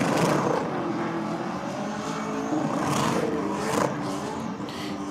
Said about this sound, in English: we're about to get cracking on some killer burnouts